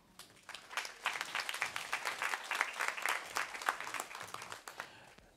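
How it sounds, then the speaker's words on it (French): A church congregation applauds during a sermon, a steady wash of many hands clapping that rises and holds for several seconds before tapering, heard from a slight distance. "Tu as le droit d'applaudir pour ça."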